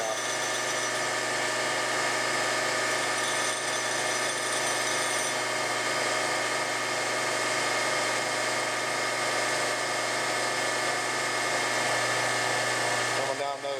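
A Chinese lathe chuck being machined on a lathe to clean up old grind marks gives a steady, continuous mechanical hum and whine that stays constant and loud throughout, with no talking.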